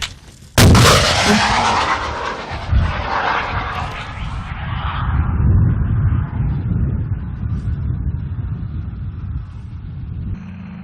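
Gunfire during military training: a sharp, loud blast bursts out near the start, followed by another heavy boom and a long rumbling roar that fades slowly.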